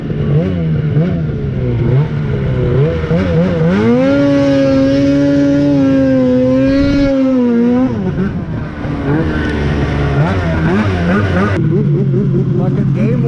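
Two-stroke snowmobile engine running steadily on a track ride, rising in pitch as it revs up and dropping back, loud and close throughout, with people talking over it.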